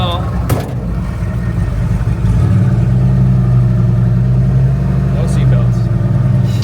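Ford F-100 pickup truck engine rumbling steadily at low idle and pulling off for a short drive, a continuous deep drone with a slight rise in level partway through, under brief talk.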